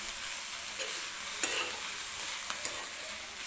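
Spring onion greens stirred in a kadhai with crushed peanuts and a pinch of turmeric give a steady soft sizzle, broken by a few sharp spoon scrapes against the pan.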